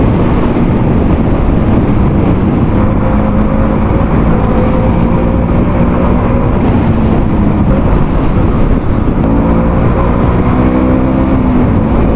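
KTM Duke 250 and Duke 200 single-cylinder motorcycles racing on a Mumbai road, a loud steady engine drone with rising and falling rev tones and wind rush running continuously throughout.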